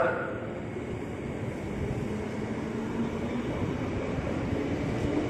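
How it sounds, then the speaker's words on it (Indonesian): A KRL commuter line train of 8 cars at Depok station, bound for Bogor, gives a steady, loud low rumble and rolling drone that holds evenly throughout, with no voices. "komuter line tujuan Bogor, rangkaiannya 8 kereta"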